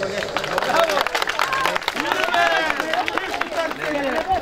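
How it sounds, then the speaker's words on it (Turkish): Applause from a crowd at a Turkish wedding, clapping mixed with guests' murmuring and chatter, lasting the whole moment and fairly loud and close. "Bir alkış alalım."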